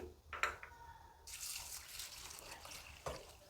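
Water poured into a bowl of washed rice, urad dal, fenugreek and dried chillies set to soak, a soft, quiet rushing splash after a few small clinks at the start.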